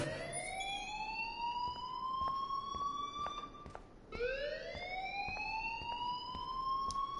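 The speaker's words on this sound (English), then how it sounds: "please turn off that alarm since that's your job" A video game alarm wails in rising, siren-like sweeps, loud and continuous, restarting once partway through over a faint background bed.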